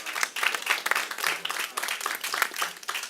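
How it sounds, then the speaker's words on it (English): A rally crowd at the NYC Comptroller's event against marketing e-cigarettes to kids applauds in a brief, fairly quiet burst, with dense overlapping claps of even strength. "Give them all a round of applause"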